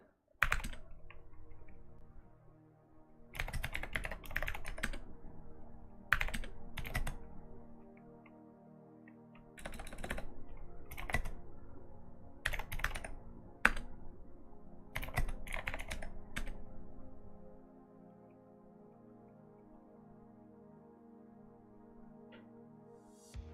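Clicky typing on a mechanical computer keyboard, coming in several bursts of rapid keystrokes separated by short pauses, fairly close and clear over a low, steady background hum.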